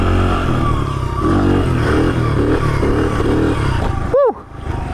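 A dirt bike engine revs and roars steadily while riding wheelies on a motocross track, with a busy, rising-and-falling drone and a sharp brief tonal sweep near the end.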